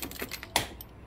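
A key working the manual seat lock of a Yamaha NVX scooter with a battery gone flat: a series of small clicking, rattling metal taps, then one sharper, louder click near the middle, close up with no talking.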